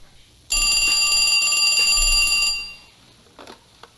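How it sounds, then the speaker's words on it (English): A telephone rings in the FMV game Blue Chicago Blues: a loud, bright electric bell trill lasting about two seconds, then fading into near-quiet with a few faint knocks. "He just sits down waiting for the phone. Answer the phone."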